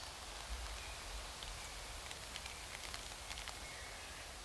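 Light rain falling on a three-wheel waterwheel in Asakura, Fukuoka, a faint steady hiss of drizzle with scattered soft patters and drips, quiet and continuous with no voices.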